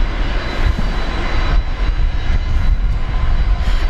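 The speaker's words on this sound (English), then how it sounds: "those Fokkers down there starting up." Fokker aircraft engines start up at Brisbane Airport, a loud, continuous low roar that fills the scene without a break and has no voices over it.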